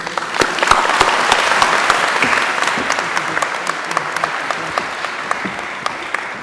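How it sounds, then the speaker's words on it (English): A university induction ceremony audience gives loud, dense applause welcoming a guest speaker, full and sustained at first, then thinning into scattered individual claps toward the end. "Please, let's give a warm round of applause and welcome to Dr. Cindy Shadow"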